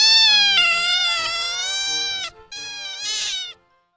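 A cat gives two loud, drawn-out meows close by, the first long and wavering, the second shorter and rising before cutting off.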